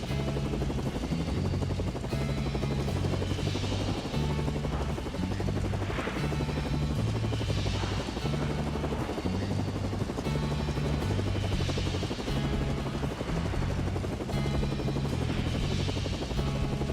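A helicopter in the No Straight Roads video game drones steadily with a loud, continuous rotor chop and buzzing engine, a constant pulsing beat that fills the whole stretch with no talk.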